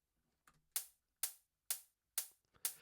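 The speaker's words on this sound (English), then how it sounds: "which closed hat sounds like this" A short, sharp closed hi-hat sample ticks at a steady pace, with four crisp hits after a softer lead-in. Each hit is quiet and isolated, with no talking.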